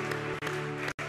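Congregation applauding together in a church service, a dense, steady wash of clapping hands with a brief drop midway and a short gap near the end.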